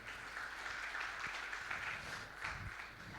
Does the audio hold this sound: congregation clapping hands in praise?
yes